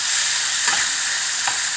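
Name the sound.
beef frying in a pan with Maggi sauce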